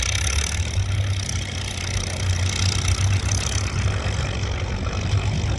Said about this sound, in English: the Super H is driving right into the picture. And that's pulling the 3 bottom too on rubber.